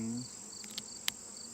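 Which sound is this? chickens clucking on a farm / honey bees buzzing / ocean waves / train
honey bees buzzing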